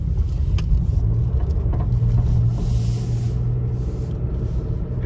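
A 2008 Mercedes W169 A-Class CDI 109 diesel with automatic gearbox, suffering a loss of power, drives along with a steady low engine rumble heard from inside the cabin, without talk.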